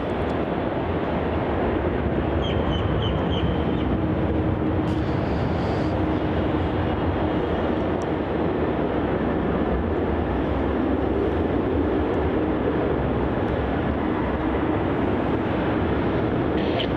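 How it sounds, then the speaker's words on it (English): A Virgin Australia airliner departs Melbourne Airport, a steady, loud engine roar that holds evenly and fills the whole stretch, heard from a plane-spotting position. "This is Virgin Australia flight 323 departing off to Brisbane."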